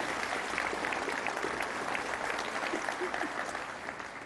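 Audience at a chamber of commerce annual meeting applauds hospital staff, a dense, even wash of many hands clapping, moderately distant and sustained throughout.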